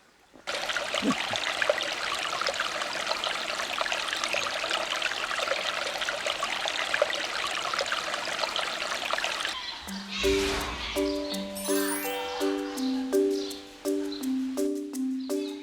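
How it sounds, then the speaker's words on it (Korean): A mountain stream on a forest trail at Geumbongsan in Daegu trickles and burbles steadily for about ten seconds, a soft, continuous flow of water, before melodic music with plucked notes takes over. "졸졸졸 흐르는데 물소리도 참 좋죠"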